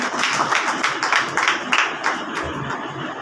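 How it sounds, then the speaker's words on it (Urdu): A church congregation claps loudly during a sermon, a dense run of rapid overlapping claps that stays strong for a few seconds before easing off. "آئیں دبورا کے لیے زوردار تالیاں بجائیں."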